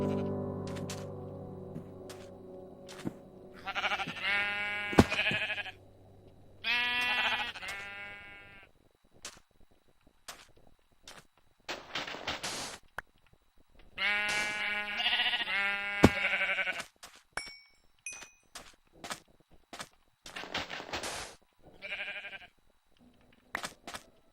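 Sheep in the video game Minecraft bleat repeatedly in short, wavering cries, loud and close, separated by gaps of quiet and scattered clicks.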